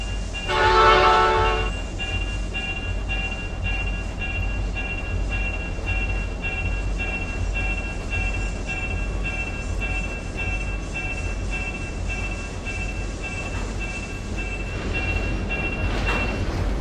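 Simulated freight train on a fictional Maine Central line in Trainz: A New Era, rumbling steadily throughout, with a loud horn blast near the start and another at the end.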